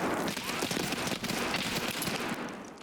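Rapid video game gunfire, with dense overlapping automatic bursts and shots crackling loudly and continuously across the whole stretch, with no voices on top.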